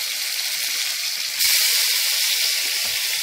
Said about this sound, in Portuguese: Eu já tô afogando o tomate, já está picadinho.